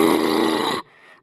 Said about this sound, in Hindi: देख मोटू पतलू कैसे खर्राटे निकाल रहा है।